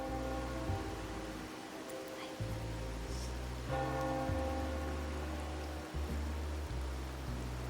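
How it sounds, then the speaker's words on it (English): Steady rain patters down in a video game, a dense, continuous hiss, with low music or ambience running beneath it throughout. "today's rain feels different. As it falls, the troubles of yesterday are washed away."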